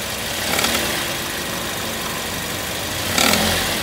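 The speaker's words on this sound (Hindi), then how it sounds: "हल्की रेस दे" Toyota Yaris with a CVT automatic idles steadily in a workshop during a transmission fluid change, giving two light throttle blips, one early and one near the end, each briefly lifting the engine note above the idle.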